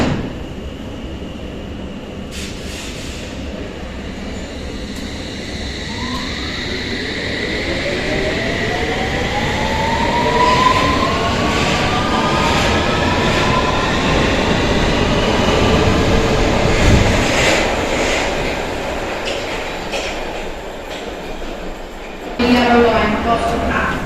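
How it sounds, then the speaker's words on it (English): A London Underground S Stock train accelerating at full power, its rising traction motor whine sweeping upward in pitch over a loud steady rumble of wheels on rail, with some talk mixed in. "when the S trains run at full power, they sound much better than they used to."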